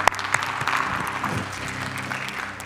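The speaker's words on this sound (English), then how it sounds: "Everyone, let's give him one more clap offering." A church congregation applauds at an online Sunday service, steady clapping from many hands lasting the whole stretch with a few sharper claps near the start, and no voices over it.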